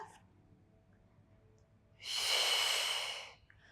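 A single long, steady exhale during a mat workout hip stretch, close and breathy, lasting over a second against a quiet background with no talking.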